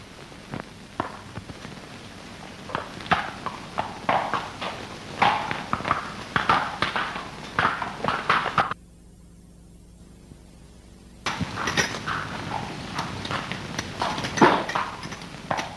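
A horse's hooves clip-clop at a steady walking pace in an old Hindi social drama film, moderately close, with the clatter pausing for a couple of seconds of near-silence before the hoofbeats resume.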